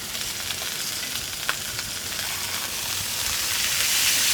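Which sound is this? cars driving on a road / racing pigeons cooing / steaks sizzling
steaks sizzling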